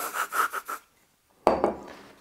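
Small parts of a recoil air rifle are scrubbed clean by hand, a few quick close rubbing strokes in a rhythmic burst, then a pause and one more scraping rub fading out.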